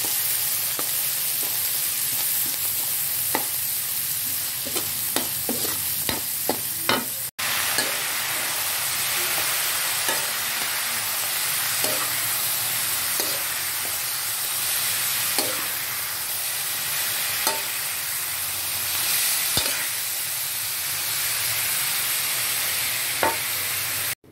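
Garlic sautéing in a frying pan, a steady sizzle running throughout with repeated scraping knocks from stirring, a few clustered quickly together then spaced out, close and fairly loud with no talking.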